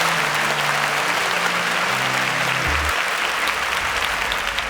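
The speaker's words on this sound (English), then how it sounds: "Please, a round of applause for Feromi." Audience applause at a televised student competition show, dense continuous clapping from a crowd throughout, with a low musical tone underneath.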